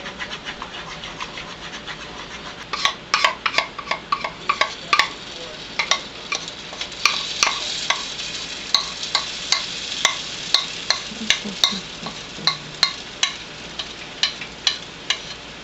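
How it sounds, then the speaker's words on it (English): An amaranth seed fritter, made from a poppy-seed-like dough, fries in a pan with a soft continuous sizzle, broken from about three seconds on by a rhythm of sharp scraping and tapping strokes from a utensil. "I'll just fry that up like we would any other fritter."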